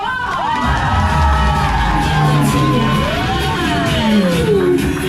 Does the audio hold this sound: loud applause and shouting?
yes